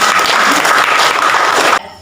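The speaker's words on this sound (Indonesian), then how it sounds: "tepuk tangan untuk kita" A classroom of young pupils applauds together at a teacher's prompt, dense and steady clapping for nearly two seconds before cutting off abruptly.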